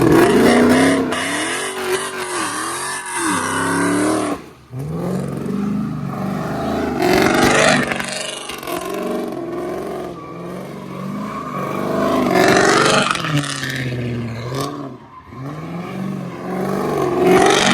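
A catless Chrysler 300 barks out loud, raspy exhaust revs that climb and fall in repeated bursts, with short gaps between pulls and close engine roar throughout.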